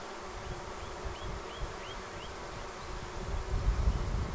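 Honey bees from a swarm buzz in a steady, low drone, with a few higher whines of individual bees passing close, louder near the end.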